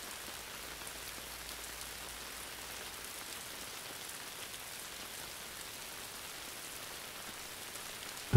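Steady, even rain falls throughout, a soft continuous hiss of drops on a surface, faint and uninterrupted with no voices.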